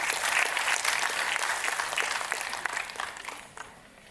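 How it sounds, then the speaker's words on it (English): A large audience at a conference inaugural session claps loudly and steadily, the applause thinning slightly toward the end. "Let's welcome her with a huge round of applause, ladies and gentlemen"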